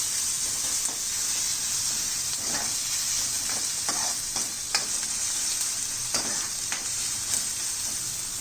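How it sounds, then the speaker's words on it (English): Crushed garlic and green chilies frying in a pan for a sprouted mung bean curry, a steady hissing sizzle punctuated by soft stirring scrapes, close and without talk. "To this I'm going to add in crushed garlic and green chilies. And stir this well."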